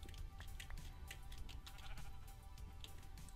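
Sheep bleat repeatedly in a Minecraft farm, several short nasal calls overlapping at moderate loudness over a steady low ambient rumble, with no talking.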